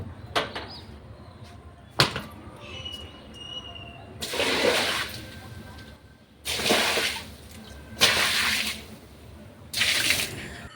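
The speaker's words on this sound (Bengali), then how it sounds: "চলো ছাদে একটু জলটা দিয়ে আসি" Water poured out on a rooftop on a hot evening, splashing in several long rushing bursts with pauses between, close and fairly loud, after a few sharp knocks at the start.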